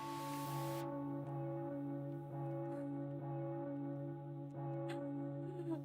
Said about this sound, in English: When I receive a point, play a bell toll